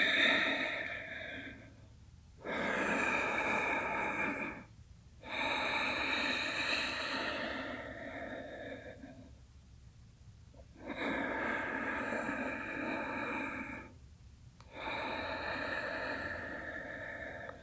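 Deep, slow breathing during a yoga balance pose, four long audible breaths with distinct pauses between them, close and clear over a faint background hum.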